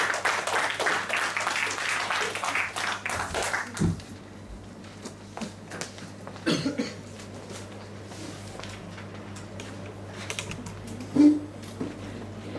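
An audience at a youth Toastmasters meeting applauds to welcome the club president. Dense clapping fills the first four seconds, then thins to scattered claps over a low steady hum.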